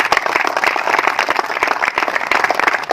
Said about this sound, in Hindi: एक बार सभी कोरोना वॉरियर्स के लिए जोरदार आप तालियां बजाएं।